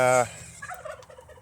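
Meat-breed chickens call with a short, harsh, loud squawk, followed by softer chirps and peeps nearby.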